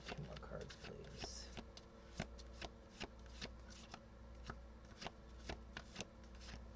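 Tarot cards shuffled by hand up close, a dense run of crisp riffling flutters and sharp card snaps repeating steadily, with a voice speaking softly in the background.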